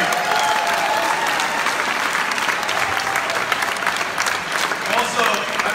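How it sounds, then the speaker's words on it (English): Loud, sustained applause from a large crowd filling a big room at a governor candidates' debate, dense clapping unbroken from start to finish. "if you can give these guys a round of applause"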